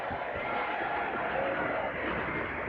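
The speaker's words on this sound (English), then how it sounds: "That was a loud cheer" Tennis crowd cheering loudly at the 1999 Canada final between Seles and Hingis, a dense, steady roar of many voices that fills the whole moment.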